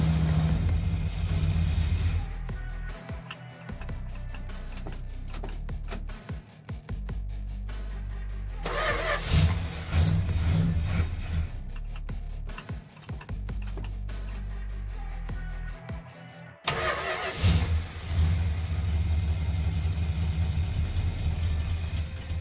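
The engine of a 1967 Dodge Dart, newly converted from a 2-barrel to a 4-barrel carburetor, runs steadily on test after an idle mixture adjustment. The rumble is loud and continuous with a few swells in pitch, and no voices.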